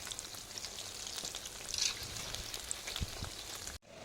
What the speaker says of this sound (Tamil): எண்ணெயில் போட்டு இப்போ கிண்டி விடலாம்